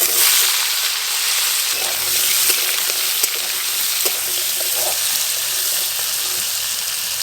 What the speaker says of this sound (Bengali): আবার সরিষার তেল দেব। এঁচোড় তো সেদ্ধ হয়ে আছে, আলুগুলো একটু ভালো করে ভাজবো।